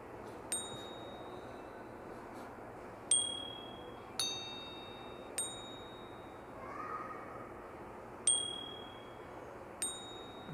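Bright bell dings from a mobile editing app's SFX assets ring out about six times at irregular intervals. Each strike is clear and ringing with a short decay, over a faint steady background hum.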